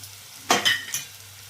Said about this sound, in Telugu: అల్లం చిల్లిపాయ పేస్ట్ వేగిపోయింది.